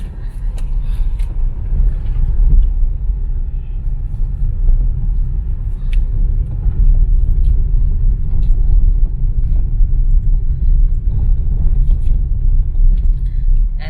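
A pickup truck moves slowly along a rural road in Cebu, Philippines, giving a steady low engine rumble and road noise that stays fairly loud and continuous throughout, with faint background sounds.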